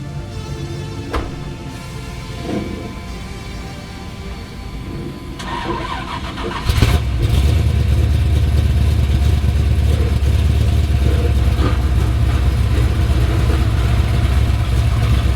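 A Chevrolet Camaro with an LSA engine cranks and fires up nearby, then settles into a loud, deep, steady idle with light revving at an outdoor car cruise, with no talk over it.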